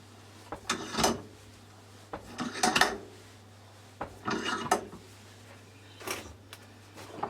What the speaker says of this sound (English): Just tighten the vise up.